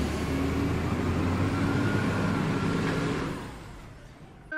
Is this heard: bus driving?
yes